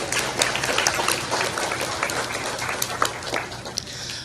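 Steady applause for teachers and staff at the Nevis Academy Class of 2024 graduation ceremony, a crowd of individual claps blending into a continuous moderate wash with a faint low hum underneath, no voices over it.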